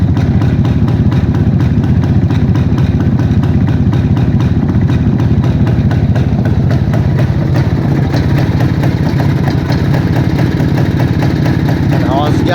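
A motorcycle engine runs loudly and steadily at close range with a rapid mechanical rhythm, its pitch rising slightly toward the end as it is revved, while someone talks over it.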